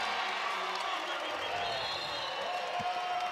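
A basketball crowd at a Wyoming Cowgirls women's game cheers after a three-pointer, a sustained, fairly distant roar of voices and clapping that holds steady throughout.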